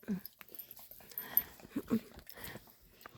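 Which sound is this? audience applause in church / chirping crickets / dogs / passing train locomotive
dogs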